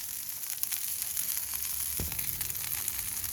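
Steak tips sizzle and fry steadily on a hot griddle outdoors, a close, constant crackling hiss with a soft clunk partway through.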